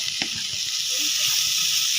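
Tomatoes frying in a pan give a steady, loud sizzle and hiss throughout, with a few soft stirring clicks close by.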